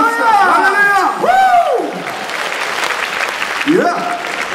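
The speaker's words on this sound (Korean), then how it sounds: "찬양을 준비되신 분들 큰 함성과 박수로 찬양 올려드리겠습니다." Church congregation at a worship service cheers and claps, with loud whooping shouts and voices over a continuous wash of applause that swells and dips across the moment.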